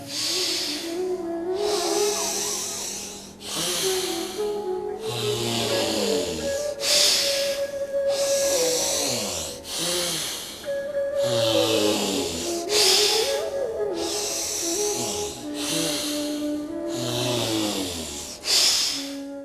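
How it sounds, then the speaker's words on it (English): Alternate nostril pranayama breathing: a run of loud, close nasal inhales and exhales, each a long hissing rush at an even, slow rhythm, about a dozen strokes. Soft music sits low underneath. "Close the left nostril and exhale through the right. Again, inhale through right. Exhale through left."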